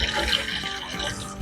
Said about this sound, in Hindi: मैंने आटा लगा लिया है और अब मैं धो रही हूँ हाथ